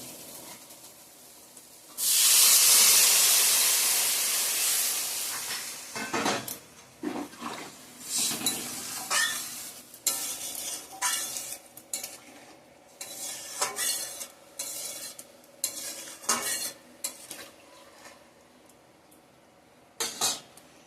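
Water poured into a pan of fried cumin and coriander powder for a fish curry bursts into a loud hissing sizzle that fades over a few seconds, followed by stirring clinks and scrapes of a spoon against the pan.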